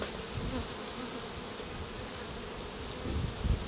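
Honeybees swarming in an open beehive, a soft, continuous buzzing hum of many insects, fairly faint and steady, swelling slightly toward the end.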